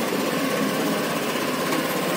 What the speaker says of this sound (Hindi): अभी आपने सुना है कि इतने साइलेंटली स्टार्ट हुआ है